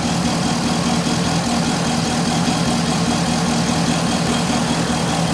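A 2005 Corvette engine idling slightly rough, with lean-condition faults and suspected bad injector plugs; a steady, close, continuous mid-pitched engine drone with faint uneven knock, no voices.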